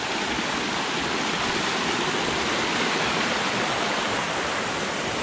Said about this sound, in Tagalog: So, mayroong isang falls dito.